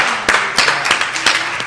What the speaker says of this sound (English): I think we've got to give her another round of applause.